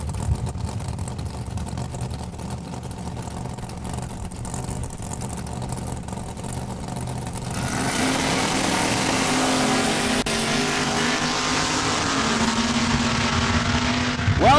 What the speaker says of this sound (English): Phillips with the Acadian Pontiac out of Lloydminster, Alberta.